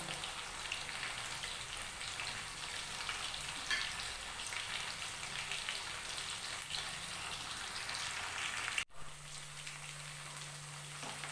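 Fish sizzles steadily in hot oil, a continuous crackling spatter like light rain. It breaks off abruptly near the end, then a quieter hum follows.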